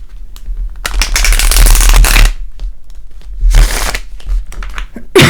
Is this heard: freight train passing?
no